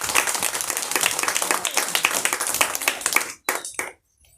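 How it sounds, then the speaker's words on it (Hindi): Children clap together at a small school celebration, a loud, rapid and dense burst of hand claps that continues steadily and then cuts off abruptly near the end, with a few last claps before silence. "तालियां बजाओ बेटा, तालियां बजाओ बच्चों"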